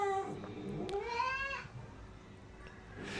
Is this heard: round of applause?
no